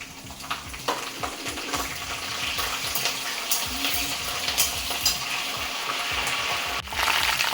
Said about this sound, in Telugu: పచ్చిమిర్చి ఎండుమిర్చి కరివేపాకు ఆవాలు జీలు కదా అవి వేసుకుని కొంచెం వేగించాలి